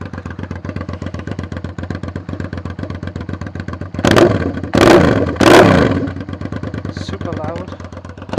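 Suzuki SV650S V-twin engine running with no exhaust fitted, a loud, rapid idle clatter with three sharp revving bursts in the middle before it settles back to a fast, rough putter.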